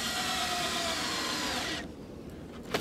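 A power drill whirs steadily as it drives gold screws into a wooden beehive stand, running loud and continuous before cutting off, followed by a short quiet and a small knock.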